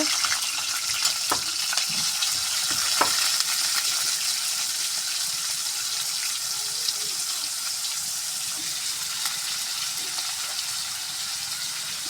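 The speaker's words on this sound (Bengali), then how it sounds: "এখন আমরা গুলা দিয়ে দিলাম, একটু কষে নিব" Ingredients sautéing in a pan for a Bengali home-style dish, a steady crackling fry with occasional scraping clicks of stirring, close and continuous without speech.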